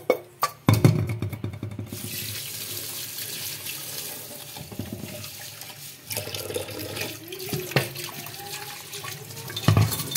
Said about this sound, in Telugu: ఇంకా కడిగేస్తున్నాను కుక్కర్ని.